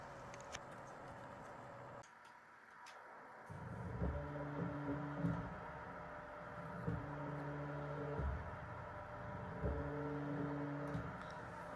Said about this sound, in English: we will see the rotation of the stepper motor using this stepper motor controller